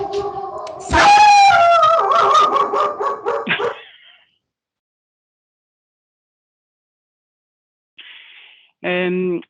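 A dog barks, yips and whimpers in a loud, close burst, partly howling, then falls silent before two short bark bursts near the end.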